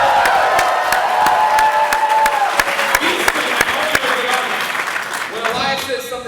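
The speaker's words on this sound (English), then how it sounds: "you need to clap and cheer and go crazy like right now." A panel audience claps and cheers loudly and continuously, a dense wash of applause with scattered whoops and crowd noise throughout.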